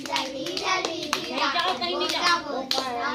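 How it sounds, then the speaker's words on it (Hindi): People clap their hands together in a rough rhythm during a Chhattisgarhi village song and dance, sharp claps repeating over singing and a voice. "एक साथ बजाओ ना ताली"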